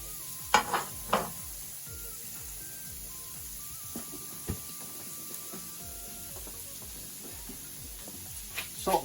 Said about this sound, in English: just get your vegetables straight in there